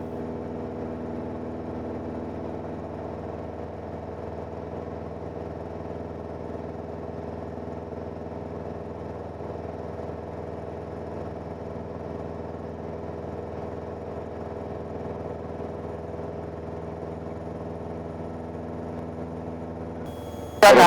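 Piper PA-28-181 Archer III airplane engine in flight, a steady, even, droning hum that holds unchanged throughout, ending with a brief sharp noise.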